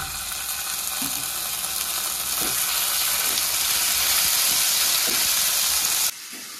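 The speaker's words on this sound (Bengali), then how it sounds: "ফোড়নের মধ্যে দিয়ে দিচ্ছি আদা আর কাঁচা লঙ্কা বাটা" Ginger and green chili paste sizzles in hot oil with five-spice tempering and dried red chilies, a steady loud frying hiss with light stirring clicks, cutting off abruptly near the end.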